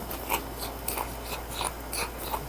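Crispy fried pancit noodles, served with a sweet and spicy sauce, are bitten and chewed close up. About seven sharp, brittle crunches come at an uneven rhythm over quiet, with no talking.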